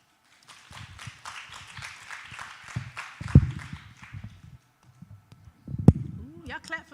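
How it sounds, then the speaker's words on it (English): Audience applause after a lung cancer screening and treatment workshop talk: a diffuse patter of clapping runs for several seconds under a speaker's nearby voice, then thins out. "y'all clap for me"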